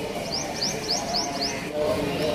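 A parrot at the Karachi zoo gives a quick run of about five sharp, rising chirps, then one more a moment later, heard over steady outdoor crowd murmur.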